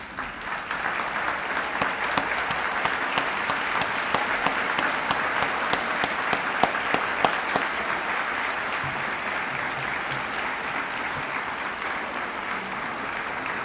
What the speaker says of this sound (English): let's give them one last grand applause